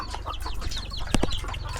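Chickens on a farm, just fed, cluck and murmur close by in a busy, overlapping chatter, with a couple of sharper squawks standing out.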